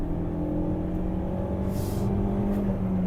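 A 2021 Lada Granta accelerating on the road, its engine a steady, close drone with a low hum held throughout and no voices over it.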